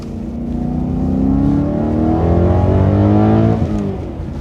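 A BMW E92 M3 engine accelerates hard, its pitch rising smoothly through the revs, loud and close, then easing off near the end.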